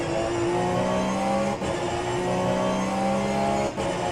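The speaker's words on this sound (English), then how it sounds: "And that is the 2nd place car of Robin Taylor that just went around Talvitier there" Race car engine from an SRO endurance round in Shanghai, track wet after rain: a loud, sustained in-car engine drone that rises in pitch through the gears, with two brief upshift dips, as the car passes another on the circuit.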